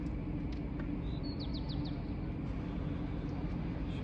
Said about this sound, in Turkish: Kuşlar uyanmaya başladı.